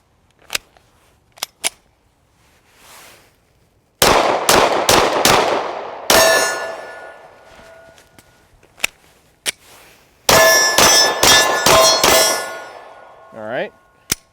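A Glock 48 9mm pistol fires at a shooting range, loud sharp reports in two rapid strings of about five shots each, with a few isolated shots and clanks in between and ringing metallic tails.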